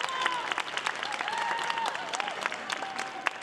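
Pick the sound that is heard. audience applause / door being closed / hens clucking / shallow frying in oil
audience applause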